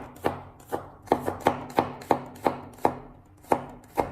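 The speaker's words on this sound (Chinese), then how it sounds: "接下来我们再把它改刀切小，先把它改刀切成薄片。" A kitchen knife slices garlic cloves thinly on a cutting board, about a dozen crisp, close knocks in a steady, slightly uneven rhythm with no voices.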